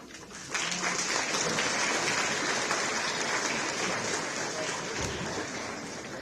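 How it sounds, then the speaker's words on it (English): At a high school graduation ceremony, the crowd breaks into applause for the graduates' families, swelling in quickly after a brief quiet moment into a broad, sustained wash of clapping from a large audience in a big space. "give them their own round of applause"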